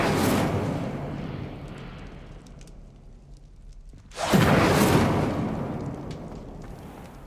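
An Incendio fire spell cast in Hogwarts Legacy produces roaring, whooshing bursts of flame: one fades away, then after a quieter gap a second loud, explosive blast erupts and slowly trails off.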